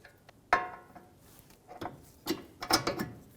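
A ratchet wrench tightening knuckle bolt nuts on a Honda Pilot's front suspension, a few short metallic clicks and clacks in quick irregular bursts, close by and fairly quiet.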